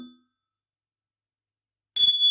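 An airgun pellet hits a small bell target on a DIY shooting range, giving a single bright ding near the end after silence, close and clear, preceded by a faint brief murmur.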